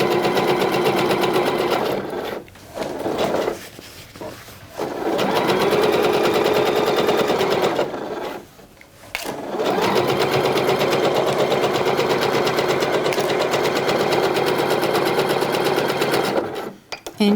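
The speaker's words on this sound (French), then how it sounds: "Et on va piquer ici à 1 cm du bord. Je commence par les points d'arrêt." A sewing machine runs in long steady bursts while stitching a seam 1 cm from the fabric edge on a pair of shorts, with brief pauses between runs; it is close, loud and steady, with no talk over it.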